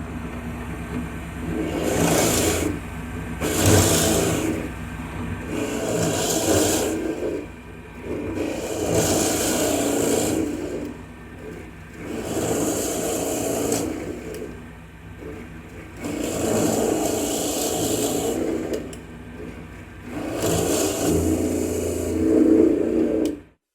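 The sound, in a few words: Central Machinery drill press, Forstner bit drilling scrap wood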